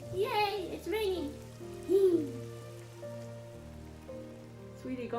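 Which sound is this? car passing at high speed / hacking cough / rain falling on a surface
rain falling on a surface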